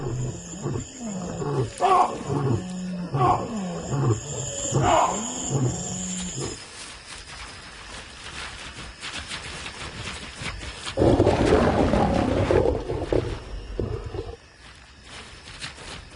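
Male lions roar in the wild, a close series of deep, rhythmic grunting roars that build and then trail off, followed by quieter rumbling and a later burst of harsher growling.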